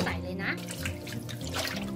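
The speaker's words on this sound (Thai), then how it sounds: "เราจะล้างจนกว่าน้ำจะใสเลยนะ" Tilapia fish pieces are washed in water, with continuous splashing and running water close by throughout while someone talks over it.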